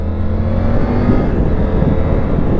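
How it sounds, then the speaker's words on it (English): A Triumph Tiger 900 Rally Pro motorcycle with a triple-cylinder engine accelerates hard on a test ride, a loud, close, rising engine roar mixed with wind buffeting, no talking. "That is a Snappy Engine."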